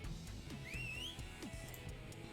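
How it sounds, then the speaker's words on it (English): A single short rising whistle plays as a stream donation alert during a Sonic Adventure charity speedrun, faint and brief above soft game music. "I heard the whistle."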